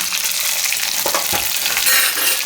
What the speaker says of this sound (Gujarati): હવે એમાં આપણે નાખી દઉં આ મરચાં અને લીમડો, થોડીક હિંગ